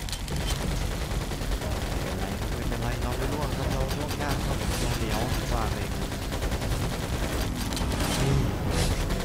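Gunfire from the Attack on Pearl Harbor video game, with dense, sustained shooting and rapid bursts running through the whole stretch. Game effects stay loud throughout while voices talk over them.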